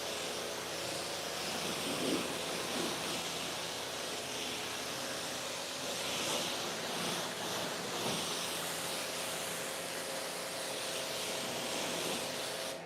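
Rinsing soap foam off with a strong spray of water, a loud steady hissing wash that runs continuously throughout, with slight surges and wind buffeting against the microphone.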